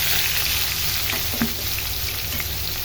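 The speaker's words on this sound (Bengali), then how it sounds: "এবার আমি দিয়ে দিব পেঁয়াজ কুচি।" Chopped onion hits hot oil already fried with bay leaf and cumin seeds, producing a continuous close, even sizzle with a few faint stirring taps and no talking.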